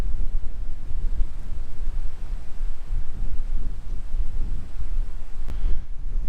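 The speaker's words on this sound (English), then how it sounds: "And the wind's rocking and howling the van." Strong wind buffeting a van at an outback sunset, a loud continuous low roar and rumble with gusty surges, dominating throughout with no talk.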